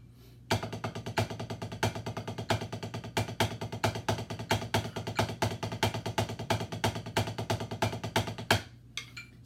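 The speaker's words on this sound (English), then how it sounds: "double paradiddle with 2 accents on the 1st and the 4th note." A drummer plays double paradiddles on a drum with accents on the first and fourth notes, a steady, fast stream of close, crisp strokes with regularly recurring louder hits for about eight seconds.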